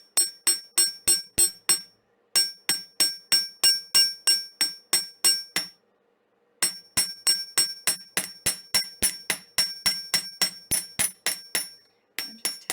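A hammer taps metal pendant wire against a block in steady, ringing strikes, quick even runs broken by two short pauses, close and clear with no talking.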